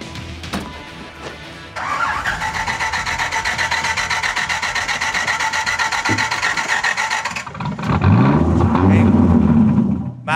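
A Dodge Viper engine cranks and catches, settles into a steady, loud running note, then revs into a deeper, heavier roar near the end, heard from close behind the car by its side exhausts.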